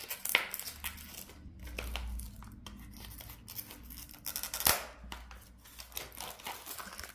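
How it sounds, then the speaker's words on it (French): A small box holding daisy stickers is handled and opened, with crinkling, rustling and sharp clicks of cardboard and paper, close and irregular, with louder snaps in between. "On va ouvrir la petite boîte."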